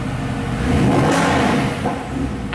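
A silver 2012 Mercedes-Benz SLS AMG with a hand-built naturally aspirated V8 revs inside a garage, a loud, close, booming roar that swells and holds before easing off.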